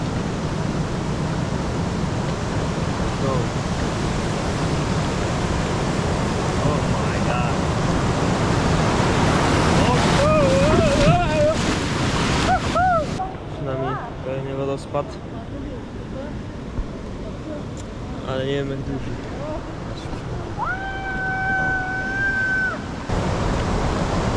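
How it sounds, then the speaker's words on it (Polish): Rushing waterfall in Pai, Thailand, a broad steady roar that fills the first half, then fades under excited voices talking and exclaiming nearby. "Będzie teraz tutaj skok z wodospadu."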